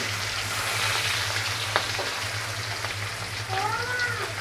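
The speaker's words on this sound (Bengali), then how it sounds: "এখন মাছগুলো তেলে দিয়ে আমি একদমই হালকা করে মাছগুলো ভেজে নেব।" Padma hilsa fish pieces fry gently in hot mustard oil, a moderate, even sizzle with a low hum underneath and a brief high tonal cry rising near the end.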